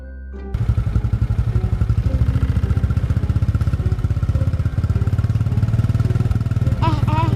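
A machine engine starts up and chugs in a fast, even, loud rhythmic rumble with rattling clatter, holding steady throughout, while a voice briefly speaks over it near the end.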